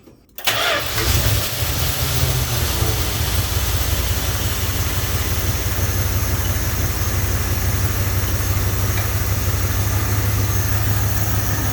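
A carbureted car engine cranks briefly, catches and settles into a steady, loud idle that runs smoothly and evenly for the rest of the stretch, with no talk over it.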